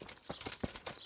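Horse hooves clopping in Kingdom Come: Deliverance, a short run of about four soft, evenly spaced hoof strikes with no talk over them.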